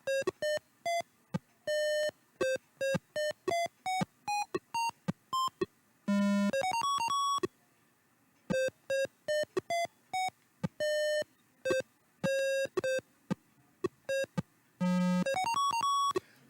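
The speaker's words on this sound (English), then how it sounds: "You can hear the clock in the background, and it speeds up" The clock in the Atari 2600 game Fun With Numbers plays as a run of crisp electronic beeps and blips, with occasional rapid flurries of higher tones, loud and clear with no talking.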